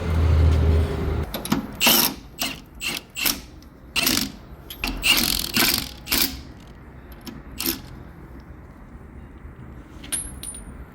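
Metal clanks, knocks and ratcheting clicks come in a loose, irregular run as a spare tire is fitted to a Jeep Wrangler JK, close and fairly loud, then thinning out toward the end.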